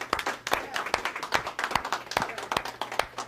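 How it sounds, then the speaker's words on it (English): Audience applause at a round-table talk, with a small group clapping in distinct sharp bursts over a low background hum and some talking mixed in. "Give the brother another round of applause."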